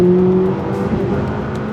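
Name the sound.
McLaren 540C sports car engine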